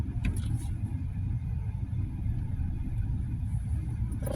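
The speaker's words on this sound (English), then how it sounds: "Now, I got the car on." A car engine idles steadily with a low, continuous rumble close by, with no talking over it.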